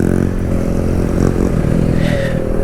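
A Kawasaki Z125 motorcycle revs hard and close, its engine note rising and falling with rattly clatter and a scrape, loud and with no talking.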